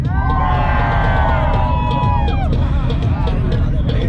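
Crowd at a two-step car competition cheering loudly for the 5.0 Mustang, with shrill whoops and yells over dense babble and idling car noise, holding steady throughout.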